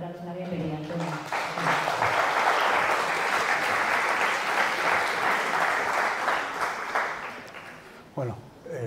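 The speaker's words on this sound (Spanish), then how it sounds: "Entonces, recibamos por favor con un aplauso una bienvenida, Antonio." A conference audience gives welcoming applause ahead of a plenary talk on applied mathematical optimization. A voice speaks briefly at the start, then steady, even clapping fills the hall for several seconds before fading as talk resumes.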